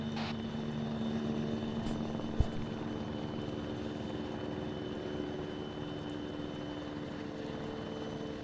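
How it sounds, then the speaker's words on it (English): A video game helicopter's rotor and engine drone steadily and evenly throughout, fairly faint, with one brief sharp click partway through. "Greg, can you make your helicopter quieter, please?"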